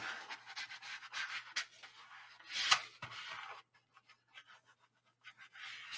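Paper being burnished down onto a scrapbook album page, a series of soft, close rubbing and scraping strokes in short bursts, with a sharper scrape near the middle and quieter intermittent rubs after.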